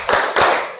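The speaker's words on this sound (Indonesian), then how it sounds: "Kita tepuk janji fokus ya." Classroom of students performing a rhythmic clapping routine, two sharp, loud group claps in quick succession, close and ringing.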